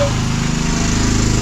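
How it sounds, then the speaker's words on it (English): A generator runs loud and close while pumping water up to an upper tank, a steady buzzing engine drone with a throbbing low pulse and a broad hissing wash above it, unbroken throughout. "So we are trying to pump water using the generator"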